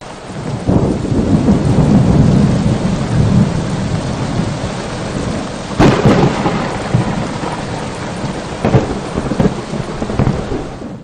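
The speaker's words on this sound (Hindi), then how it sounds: "अटक में मूसलाधार बारिश ने जल थल एक कर दिया।" A heavy thunderstorm pours rain in a steady loud roar, with rolling thunder rumbling early on and sharper cracks of thunder breaking through around the middle and later, no voices present.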